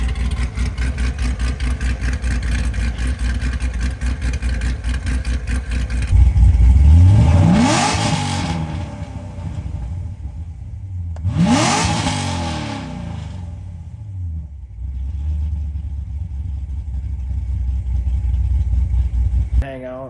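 A cammed Corvette engine on a dyno, loud lumpy idle broken by two strong revs that climb and fall, each lasting a couple of seconds, then settling back to the choppy idle.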